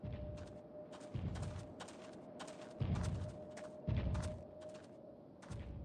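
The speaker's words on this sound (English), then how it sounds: "The Rancor stomping around is literally like making a bang noise." Heavy footfalls of a Rancor creature stomping through the game world in Kenshi, a series of low booming thuds that recur in an irregular rhythm under a steady tonal hum and sharp clattering game sounds.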